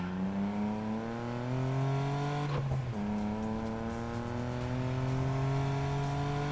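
An Aston Martin DB5 engine in the racing game NFS Payback revs loudly and steadily, its pitch dipping briefly before climbing again, close and without talk.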